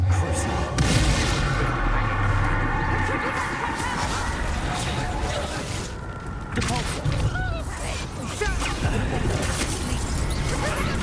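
Expulso blasting-spell effects during a magic duel in a wizarding video game, a thick wash of booming, crashing blasts and whooshing effects that stays loud throughout, with faint game voices mixed underneath.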